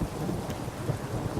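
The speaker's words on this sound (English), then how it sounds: "I hear lightning, but I don't see any rain." Thunder in the video game The Witcher 3: Blood and Wine, a continuous low rumbling roll under a steady rain-like hiss, loud and unbroken.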